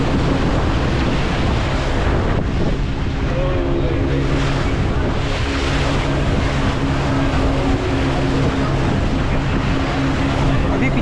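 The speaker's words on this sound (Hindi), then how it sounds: "पिछले आधे घंटे से हम लोग की नाव समुद्र के बीच में चल रहा है" Motorboat running steadily across the open sea off Goa, with a constant engine drone and wash of waves and wind noise filling the whole stretch, loud and unbroken.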